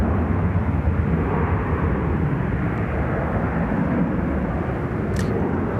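A Garuda Indonesia Airbus A330 airliner at Sydney Airport gives a loud, steady broadband engine roar that holds evenly throughout, with no voices.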